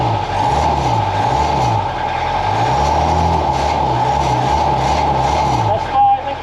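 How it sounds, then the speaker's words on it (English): Diesel engine of an AMX13, ERC90 or AML90 armoured vehicle revs up and down in loud, close swells over a steady idle, several rises in a row, ending with a brief higher blip. "George, can you just rev it, please?"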